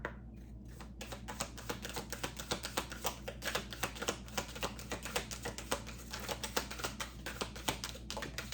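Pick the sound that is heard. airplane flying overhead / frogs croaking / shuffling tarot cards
shuffling tarot cards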